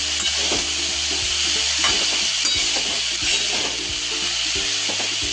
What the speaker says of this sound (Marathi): छान असं तेलात परतवून घ्यायचं।